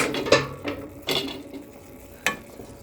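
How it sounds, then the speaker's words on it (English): A utensil scrapes and stirs through a thick chicken tetrazzini mixture in a pot, making a few separate soft scraping strokes spaced about a second apart with a quiet wet texture between them. Nobody speaks. "I'll take my rounding utensil and just stir it in."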